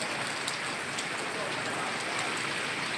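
Steady rain falls on surfaces, a soft continuous patter with scattered individual drops ticking through it, heard alone without any voices.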